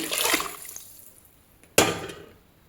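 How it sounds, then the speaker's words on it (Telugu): Water is poured into a pressure cooker in two splashy bursts, the first longer and fading, the second sharp and sudden, then trailing off. "ఫోర్ గ్లాసెస్ ఆఫ్ వాటర్ని వేసేస్తున్నాను"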